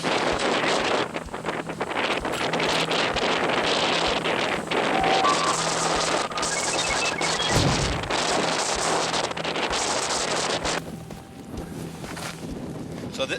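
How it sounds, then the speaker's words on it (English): Strong wind blowing outdoors on a hunting trip in Hawaii, buffeting the microphone as a continuous broadband roar with gusts that rise and fall, easing toward the end. "Wind's picking up."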